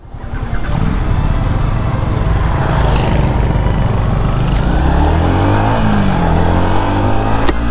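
Motorbike cruising along National Highway 40 in Meghalaya on a Sunday ride, a loud steady engine drone with wind rush running throughout, the revs rising and falling slightly with no talk.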